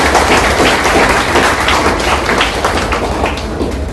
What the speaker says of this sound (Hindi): इनके लिए भी बहुत तालियां दीजिए।